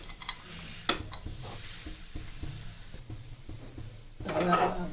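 Melted khajur pak date mixture is scraped and spread into a tray, giving soft sticky scrapes and spoon taps on metal over a low sizzle, with a louder burst of scraping at the end.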